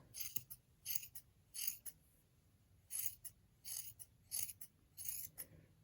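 Scissors snip through crochet yarn while making a hat, a run of close, crisp cuts in short bursts with small pauses between them and no talking.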